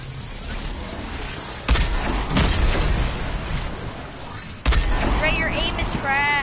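Video game gunfire aimed at a UFO, with two sharp bursts of shots cutting through game noise while players chatter and shout over the top.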